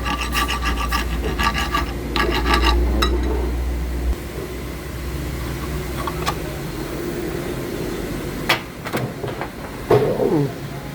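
A cut part is smoothed with a filing or rasping stroke during EGR valve work on a Toyota Innova with a 1GD engine, a steady close scraping rub with a low hum and a few sharper knocks near the end.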